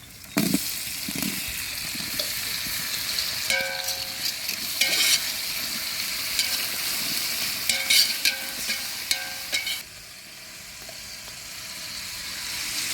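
Tomatoes and onions sizzle steadily in hot oil for a big batch of chicken gravy, with scraping stirring clatters in the first ten seconds before the frying settles into a quieter, even hiss.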